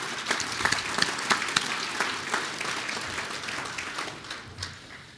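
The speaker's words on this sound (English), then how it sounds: "Let's please give her a warm round of applause." An audience claps at an awards banquet, a steady wash of applause with scattered louder individual claps, fading slightly toward the end.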